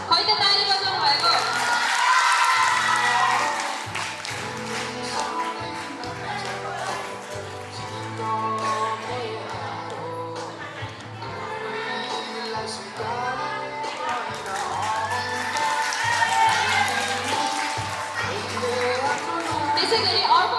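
Audience clapping and cheering at a dance school's fourth anniversary awards program, a dense, steady burst of applause with whoops and crowd chatter, loud throughout.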